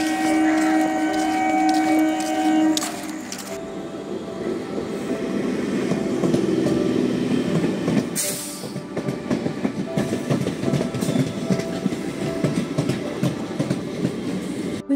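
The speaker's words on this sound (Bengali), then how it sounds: "দাঁড়ান, আগে ট্রেনে উঠে যাই" A passenger train runs loudly on rails, starting with a steady hum and whine, then a continuous rumble and a rhythmic clickety-clack of wheels over the joints, with occasional hissing and squealing.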